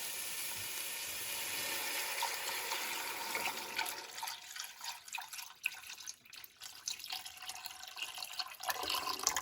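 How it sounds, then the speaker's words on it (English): Water poured into a cooking pot over bay leaf and thyme, a steady splashing stream close by that thins into uneven dribbles and drips toward the end, with no speech. "And then I'm just going to cover with water."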